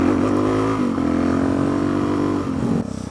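A Suzuki DRZ400SM motorcycle engine revs up sharply and holds a loud, buzzing high note, then drops back toward idle near the end.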